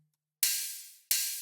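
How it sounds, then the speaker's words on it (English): Ride cymbal from a jump-up drum and bass drum loop built in FL Studio: two loud, bright washy strikes, each ringing out long and slowly fading, with nothing else playing. "Next, we've got a ride."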